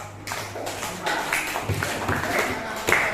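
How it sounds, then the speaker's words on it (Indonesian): A classroom group claps for classmates in an Indonesian teacher-certification lesson, with uneven rhythmic claps building into a moderate spatter of applause. Voices carry underneath. "tepuk tangan untuk kelompok"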